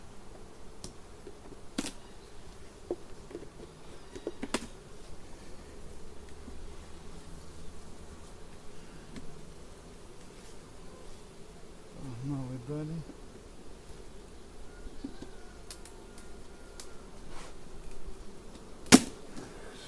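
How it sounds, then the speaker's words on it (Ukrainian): Honey bees of the Carniolan strain buzz around hive frames in a close, soft, continuous hum, with occasional louder passes and a few clicks and taps. "Ну і тут що у нас бджілки, бачите, вистачає."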